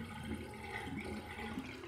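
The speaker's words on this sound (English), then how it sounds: "I'm gonna drain my sink." Bathroom sink draining after a wet shave, a soft, continuous gurgle and trickle of water running down the drain for under two seconds.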